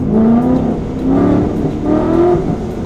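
A loud Chevrolet Camaro engine with a Whipple supercharger revs hard in repeated surges, its pitch climbing and falling several times, close and aggressive.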